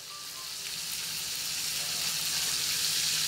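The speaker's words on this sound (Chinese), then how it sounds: "煎两面金黄，整条上碟鲜香馥郁" A whole salted fish from Yangjiang, Guangdong, sizzles in a pan as it fries golden on both sides, a steady, bright crackling hiss that grows slightly louder and fills the scene without any voices.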